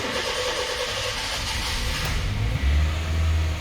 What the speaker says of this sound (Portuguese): Primeira partida no veículo, sem pisar no acelerador